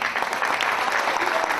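Dense, steady audience applause at a political speech in Colombia, a crowd clapping continuously and fairly close for the whole short stretch with no talk over it.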